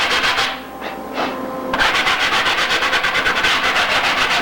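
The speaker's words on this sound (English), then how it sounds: "we're going to sand this trailing edge depression" A winglet's trailing edge depression is sanded by hand with a rapid, even back-and-forth scrubbing rasp, close and continuous after a short slower start.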